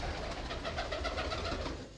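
Pigeons coo softly and repeatedly while feeding on scattered grain, a gentle rolling pulse of calls close by with no talking.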